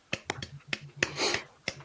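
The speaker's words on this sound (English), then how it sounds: "The only one clapping, but okay." A lone person clapping, a few sharp, separate claps spaced unevenly over a couple of seconds, close and fairly quiet, with no one joining in.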